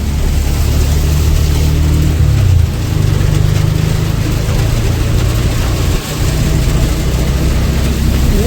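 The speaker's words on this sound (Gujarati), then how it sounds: "તો દોસ્તો વરસાદ જોરદાર ચાલુ છે અમારા પાટણની અંદર." Heavy rain pours down in Patan, a loud, continuous roar of rainfall close by with a low engine-like rumble underneath, steady for the whole stretch with one brief dip near the end.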